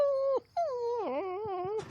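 A cartoon dog whimpers in two long, wavering, high whines. The second whine rises and falls like a moan, and the sound is close and clear with no talking.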